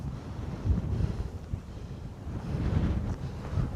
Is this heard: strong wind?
yes